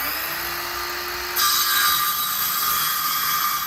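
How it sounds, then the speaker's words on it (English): Power saw cutting a board to width, a steady whine that jumps into a louder, harsher cutting noise partway through and holds. "go ahead and cut this to the width we need this board to be"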